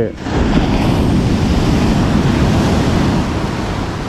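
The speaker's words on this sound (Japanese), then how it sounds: "波が出てきましたね" Ocean waves roll onto a surf beach near Sendai on a winter day, a steady loud wash of breaking surf mixed with wind rumble across the microphone, continuous throughout.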